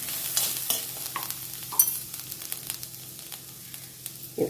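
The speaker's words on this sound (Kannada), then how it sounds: "ಕರಿಮೆಣಸು ಹಾಕಿ ಹೀಗೆ ಒಳ್ಳೆ ಮಿಕ್ಸ್ ಮಾಡಿಕೊಳ್ಳಿ." A spoon stirs black pepper through green masala in a pan with soft scraping strokes and a faint, steady sizzle, fairly quiet and close.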